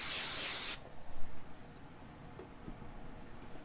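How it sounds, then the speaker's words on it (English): An aerosol can of activator sprays in a strong hissing burst onto a Mini-Z RC car body. The close, loud spray stops abruptly after under a second, and quieter handling noises follow. "You shake your can, you spray it in there, and you just cover your body."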